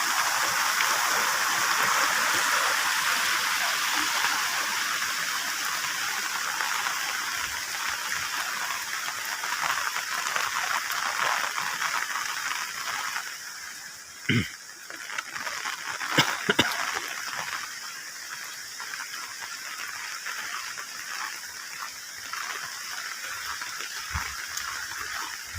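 Wind-driven rain pouring over a rural village in Trenggalek, a dense, continuous hiss of falling water, loud and steady throughout, with a few brief knocks and thuds nearby.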